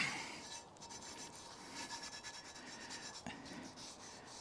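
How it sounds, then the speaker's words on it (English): A bandana rubs oil onto a cast iron skillet in a quiet, faint series of soft rubbing and scraping strokes with small knocks. "Might as well rub it on the outside as well."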